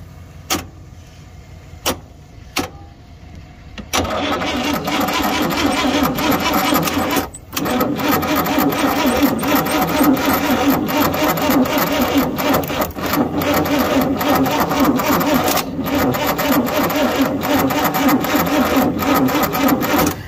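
A 1962 Chevrolet C10 pickup engine cranks over loud and steady for about sixteen seconds without catching, after a few sharp clicks at the start.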